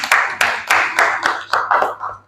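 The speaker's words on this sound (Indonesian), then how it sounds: "Beri tepuk tangan dulu." A class applauds a group stepping forward, about eight sharp bursts of clapping from many hands in a steady rhythm, close and fairly loud, with no talk over it.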